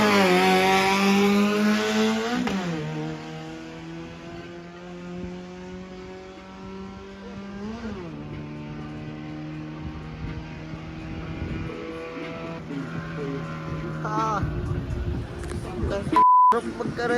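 Car engines revving and accelerating at a predawn street race between Lipa and Manila crews, rising and falling in pitch through several long pulls, with a beep near the end and people talking over the noise.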